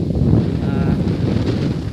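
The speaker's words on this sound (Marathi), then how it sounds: "वारा तर भरपूर लागता, माझा काय ऐका घेता का काय माहीत, एवढा वारा लागता" Steady, heavy wind on a hillside roars across the microphone, a continuous low rumble with no pauses.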